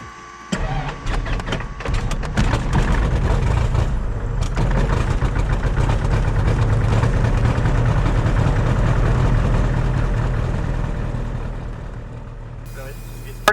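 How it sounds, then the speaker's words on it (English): A small piston aircraft engine runs steadily with a loud low rumble and rattling texture, close by, easing slightly toward the end. "This is only a 4-cylinder engine."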